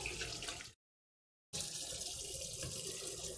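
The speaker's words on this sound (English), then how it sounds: "Give me 2 seconds while I rinse my hands off" Hands being rinsed under a running kitchen tap, a steady close hiss of flowing water that cuts out briefly for a moment of silence and then resumes at the same level.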